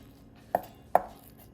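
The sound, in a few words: knife finely chopping meat on a board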